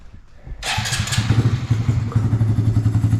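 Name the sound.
engine first startup after wiring work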